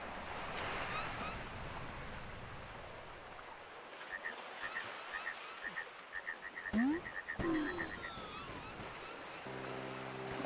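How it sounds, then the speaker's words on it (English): Frogs croak in a repeated series from the video game Fez, set against a steady wash of surf-like ambience with a few brief chirps and swoops mixed in. "I love these frogs."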